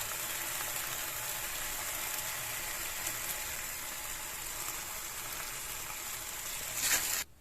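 A steady, crackling sizzle of chicken frying in a pan runs throughout at even loudness, briefly swelling near the end before cutting off.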